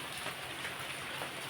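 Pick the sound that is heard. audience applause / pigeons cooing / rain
rain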